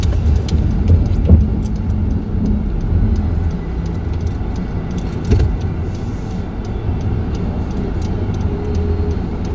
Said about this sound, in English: Just waiting for this car.